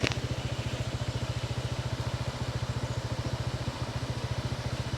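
Motorcycle engine idling nearby near a beach trail, a steady rapid pulsing putter that stays even and close, with no talking.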